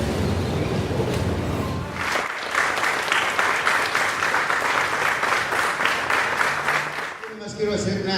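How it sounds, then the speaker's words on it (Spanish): A crowd at a panel discussion breaks into sustained, steady applause that carries on for several seconds after some murmuring at the start, then fades as a voice resumes. "Este aplauso que salió del corazón"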